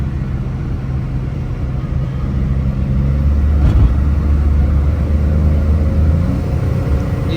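A Suzuki Mehran 660cc converted to automatic cruising at about 50, with a steady, loud low engine and road rumble inside the cabin and a brief thump midway.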